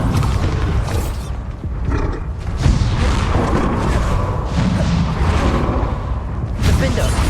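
Bombarda spell explosions in the Hogwarts Legacy video game, a dense run of booming blasts and rumbling impacts that fill the whole stretch loudly, with magical combat noise layered throughout.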